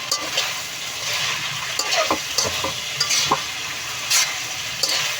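Pork meat frying and being stirred in a hot pan for butter pork, a steady close sizzle with repeated scraping clicks and clatter of the utensil against the pan throughout, no talking.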